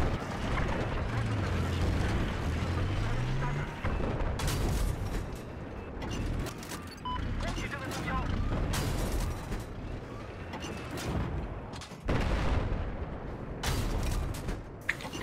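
Battlefield combat on the Siege of Shanghai map: booming tank cannon fire and explosions recur over a busy background of mechanical clatter, with someone talking throughout.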